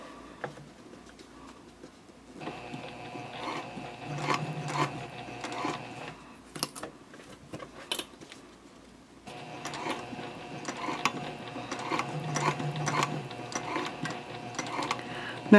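Sewing machine stitching a cork fabric or leather cardholder wallet, running slowly in two bursts of steady mechanical whirring and ticking with a pause between, fairly quiet and close.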